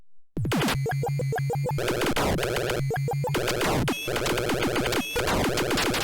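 Robotron arcade video game blasting grunts: dense, loud electronic zaps, laser shots and explosion bursts layered continuously, with repeated rapid firing patterns.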